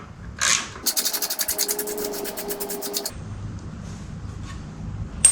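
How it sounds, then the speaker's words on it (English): Wrench and socket working a 12mm exhaust bolt on a 2015-2021 Yamaha R3, giving a quick run of close, rapid ratcheting clicks for about two seconds, framed by faint scrapes and taps. "You need a wrench on the back and a socket for the front, and crack on."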